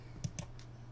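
A few quick, light clicks of a computer mouse selecting a website link, two close together then a fainter third, near and quiet over a low steady hum.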